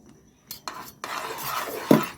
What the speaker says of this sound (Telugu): ఇలా లైట్గా కలుపుతూ ఉండాలి